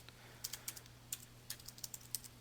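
Computer keyboard keys are pressed in a quick irregular run of crisp, close, fairly quiet clicks over a faint steady hum.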